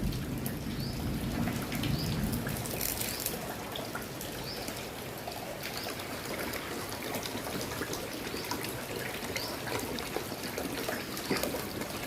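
Heavy rain pours down steadily in a constant dense hiss of drops striking surfaces, with trickling water and a low rumble beneath, no voices present.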